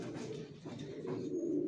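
Racer pigeons coo in a soft, steady, low rolling murmur, faint and continuous with no talk.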